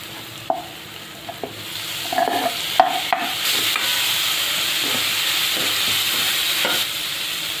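Turmeric and chopped tomato tipped into a frying tempering for dry cabbage sabzi, with a few sharp spoon clinks and bursts, then a steady loud sizzle as they are stirred in the pan.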